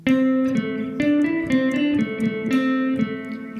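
An electric guitar plays the next part of a simplified riff alone, sustained chiming notes with rhythmic picked accents about every half second, moderately loud and close.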